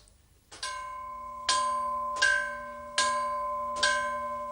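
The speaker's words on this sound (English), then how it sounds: "The old bells are still used to signal arrivals." Old bells at Filisur railway station on Switzerland's Albula line chime to announce an arriving train, five clear ringing strikes spaced about a second apart, each leaving a sustained bright tone that decays slowly over quiet background.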